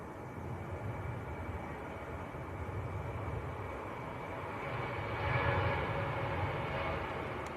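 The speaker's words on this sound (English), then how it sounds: "Ryanair to Dublin, just got airborne." A Ryanair jet bound for Dublin takes off at Manchester Airport, its engines a steady distant roar that swells slightly toward the end, with no voices over it.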